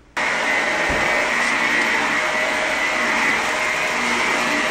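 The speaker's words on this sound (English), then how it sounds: "Just vacuum it up now." A vacuum cleaner switches on and runs loudly at a steady, close whine while sucking up a dried sprayed-on treatment, then cuts off abruptly after about four and a half seconds.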